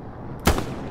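A single gunshot in the World War II shooter Hell Let Loose, a sharp loud crack with a short rumbling tail, heard alone.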